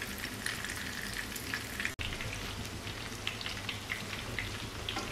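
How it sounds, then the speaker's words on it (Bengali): Hilsa fish frying in oil over low heat in a home kitchen, a steady dense crackle and sputter close by, with scattered sharper pops and a brief cut partway through; no voices. "এভাবে আরেকটা পিঠ এভাবেই ধিমে আঁচে ভেজে নেব আমি।"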